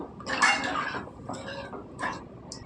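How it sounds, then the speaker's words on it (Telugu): Water poured from a glass into a pot of mango stew (mamidikaya pulusu) in a home kitchen: a short splashing pour up front, then a couple of fainter trickles and splashes, close and alone. "ఇప్పుడు మనకు పులుసు ఎంత కావాలో అలాగా అన్ని నీళ్ళు వేసుకుందామండి"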